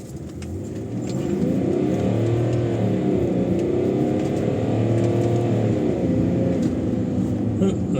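A 2003-era BMW X5 E53 with a 3.0-litre diesel accelerating on an open road, its engine note rising in pitch and swelling from quiet to a sustained loud drone heard from inside the cabin.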